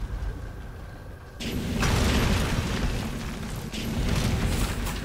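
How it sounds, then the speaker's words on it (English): Explosions rumble in the Turok video game, a heavy, sustained booming blast that swells abruptly and stays loud with mechanical crackle layered over it, no voice present. "So much explosions."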